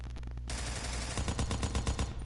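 Rapid automatic gunfire in a PS4 shooter aimed at a sniper, a dense, loud stream of close shots with a quick rattling rhythm and no talking.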